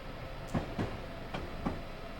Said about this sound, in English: Quite a long train.